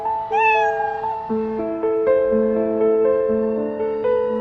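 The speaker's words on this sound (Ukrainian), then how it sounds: "кошеня довго і сумно нявкало" A small cat meows repeatedly in a high, drawn-out, plaintive series of cries, close and clear, with no other sounds.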